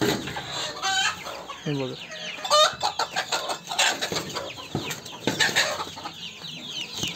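Young chicks about one to one and a half months old cluck and chirp continuously in a tarpaulin-walled rearing room, close and lively, with a person speaking over the birds.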